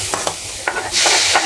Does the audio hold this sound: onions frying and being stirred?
yes